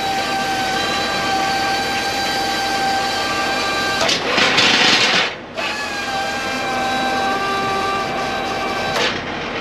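Deck of a 9-car stinger car hauler trailer being lowered, with a steady loud mechanical hydraulic hum and tonal whine, broken by a burst of hissing air or rushing noise midway and a short second burst near the end.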